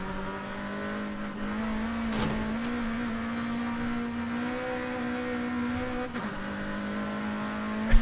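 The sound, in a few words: car driving in video game Forza Horizon 5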